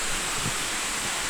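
Deungnyong Falls, a two-tier waterfall in an autumn mountain valley on Myeongseongsan, pours in a constant broad rushing roar that stays steady and fairly loud throughout, with no voices.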